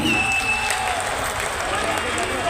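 Crowd applause at an outdoor political rally on a football ground, a steady dense wash of clapping and crowd noise throughout with speech mixed in.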